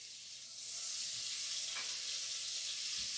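Butter melting into reheated bacon fat in a pan gives a steady, soft sizzle that swells after the first half second and holds evenly, with a faint stir or clink near the end.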